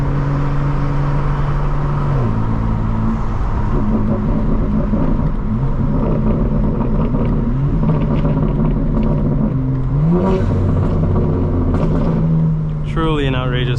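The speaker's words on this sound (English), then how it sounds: "A lot of burble when you lift off the throttle." A 2025 BMW M4 Competition xDrive on a night drive, its exhaust rumbling and burbling as the throttle lifts, with engine drone shifting pitch through the run while someone talks over it close by.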